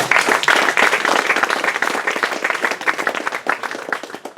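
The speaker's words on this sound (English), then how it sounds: "Big round of applause for that man." Loud, dense applause from a crowd at an awards ceremony, many hands clapping together at a steady pace that fades slightly toward the end.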